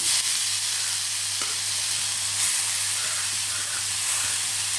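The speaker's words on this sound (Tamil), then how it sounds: "அடுத்து நம்ம முள்ளங்கியை தனியாக போட்டு வறுக்கணும்" Grated radish frying in a pan on a stovetop, a loud, steady broadband sizzle that hisses without pause and carries a low hum beneath it.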